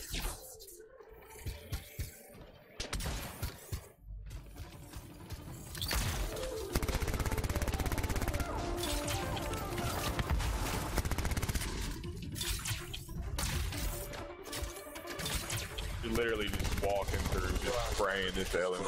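A light machine gun in the Anthem game firing in long sustained bursts amid busy combat effects, loud and continuous through the middle, with a voice talking over parts of it.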